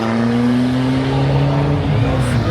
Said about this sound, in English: Nothing better than a diesel.